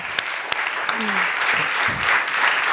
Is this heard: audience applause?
yes